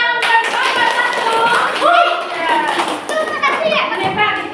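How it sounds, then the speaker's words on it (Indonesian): Children in a classroom clap for a group of students, the applause mixing with lively chatter and shouting from the kids. "Tepuk tangan untuk kelompok satu."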